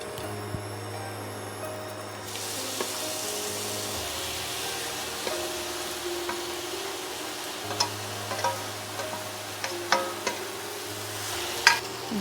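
Apple pieces cook in a spoonful of ghee, giving a steady soft sizzle that starts a couple of seconds in and runs throughout, with scraping stirs and light clinks growing sharper toward the end.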